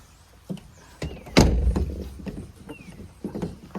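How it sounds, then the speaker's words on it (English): Handle pulls and thunks on the locked side door of a VW Caddy work van: a few separate knocks, with one heavier clunk in the middle and lighter rattles after it, close by and with no talk. "Can't open the side door, Dave. Must be locked."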